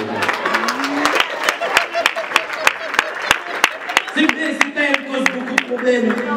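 A comedy-show audience at the Palais des Congrès breaks into scattered clapping, sharp claps popping out over someone talking throughout.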